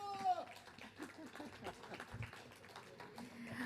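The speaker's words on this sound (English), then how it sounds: "Can we have a round of applause" Applause from an audience at an Allen Ginsberg centenary literary event: a steady wash of many hands clapping at moderate distance, held quiet and continuous for a few seconds with a voice partly audible beneath it.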